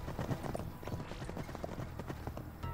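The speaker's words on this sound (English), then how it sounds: "Look at how she rides her horse." Horse hooves clip-clopping in the video game Paladins, a quick, regular rhythm of hoof beats at moderate volume, continuous across the short stretch against faint background ambience.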